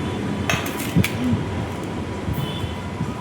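Home meal being served with fish curry and fritters, brief clinks of dishes and cutlery, a sharp clatter early then a few lighter taps over quiet room noise.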